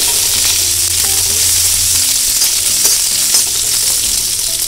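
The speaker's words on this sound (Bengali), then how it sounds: "আদা আর রসুন কুচিটা কিছুক্ষণ ফ্রাই করে নিয়ে বেশি দেরি না করে এতেই আমরা দিয়ে দেবো চিকেন" Chopped ginger and garlic sizzle steadily in hot oil for a chicken dish, a loud, close, continuous frying hiss with faint stirring and no talk.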